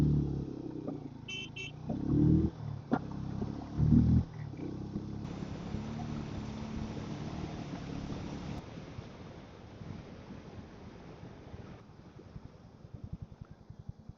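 A Harley-Davidson X440T motorcycle engine runs through a power test, revving in loud surges over the first few seconds, then settling into a steady rumbling drone with wind buffeting across the microphone.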